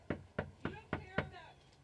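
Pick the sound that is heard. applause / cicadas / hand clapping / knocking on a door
knocking on a door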